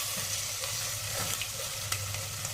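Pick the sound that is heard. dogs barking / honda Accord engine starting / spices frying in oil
spices frying in oil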